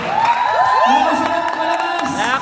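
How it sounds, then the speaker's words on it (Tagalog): A large audience at a top-earners awards event erupts in loud, sustained cheering, with high whoops and shouts rising over a dense roar of voices. "gusto ko po muna marinig ang palakpakan ninyo at hiyawan"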